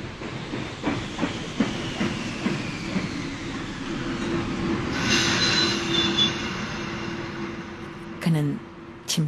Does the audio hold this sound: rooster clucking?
no